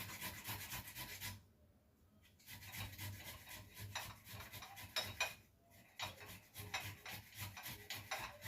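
Ginger root rubbed against a metal grater, a steady rasping scrape in repeated strokes, close and fairly loud, with a short pause partway through before the grating resumes.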